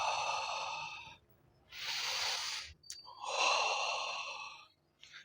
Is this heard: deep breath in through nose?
yes